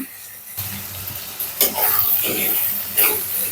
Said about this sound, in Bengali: দাঁড়াগুলো দিয়েও আমি খুব ভালো করে কষিয়ে নিচ্ছি।